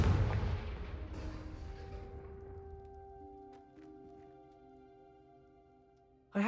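A Confringo spell blast in the Hogwarts Legacy video game, a loud booming burst that decays slowly into a long ringing tail over several seconds, alone with no voices.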